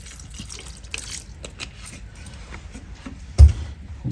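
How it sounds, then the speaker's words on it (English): A plastic water bottle is opened and water poured into a Cajun shrimp and rice mixture in a kitchen: soft crinkles and trickling, then a sudden dull thump near the end. "I'm about to open a bottle of water."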